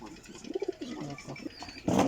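Ferozpuri breeder pigeons coo in a few soft, rolling calls close by, ending with a brief louder burst of noise.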